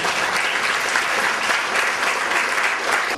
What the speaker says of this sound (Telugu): మనమందరం కూడా ఒక మారు వారికి హృదయపూర్వకంగా చప్పట్లతో